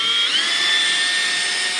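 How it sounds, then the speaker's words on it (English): A power drill set to its lowest speed buffs scratches out of the surface of an MTX Blue Thunder bandpass subwoofer box, giving a steady close high whine with a slight pitch rise at the start. "So I'm going to put my drill on speed 1 and go from there."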